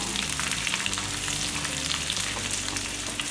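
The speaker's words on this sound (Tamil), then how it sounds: "இந்த பூண்டு எல்லாமே நல்லா பொரிஞ்சிருச்சு" Garlic and curry leaves fry in hot oil for a garlic tomato chutney, giving a loud, close, unbroken crackling sizzle with dense popping throughout.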